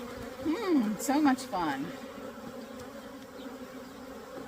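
Honey bees buzz around a strong hive being split, a steady hum under a person's voice speaking briefly.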